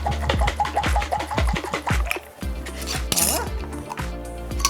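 A lidded jar of balsamic vinaigrette is shaken hard by hand, giving a quick, steady series of close sloshing rattles for a couple of seconds before the motion stops and softer kitchen noise follows.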